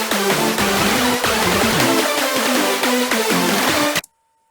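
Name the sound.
orchestra hit sample from 90s Eurobeat songs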